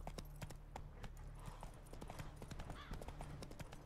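Horse hooves clip-clop in a steady trotting rhythm in the video game The Witcher 3: Wild Hunt, close and even over a constant low background hum of the game world.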